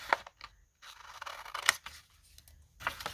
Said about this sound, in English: I'm just going to go ahead and cut that straight across.